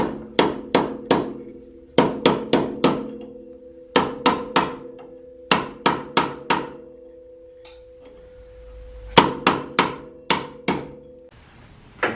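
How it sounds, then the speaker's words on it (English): A hammer taps a metal punch in quick clusters of three or four ringing hits, separated by short pauses, freeing a strut on a 1st gen Honda CR-V. "that should just be a couple taps with the hammer. Just going to use the punch"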